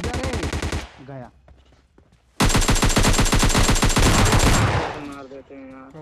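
Rapid automatic gunfire in a multiplayer shooter game, two loud bursts of machine-gun fire, the second longer and sustained, separated by a quieter gap with brief voices.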